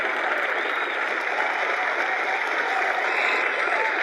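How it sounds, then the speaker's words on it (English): A round of applause greets a new guest host on a podcast, steady, unbroken clapping that sounds somewhat thin and distant and holds at an even level throughout. "Can we get a round of applause"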